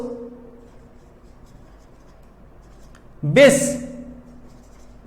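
A single short, scratchy stroke of writing on a board, crisp and close, comes after a stretch of a man lecturing.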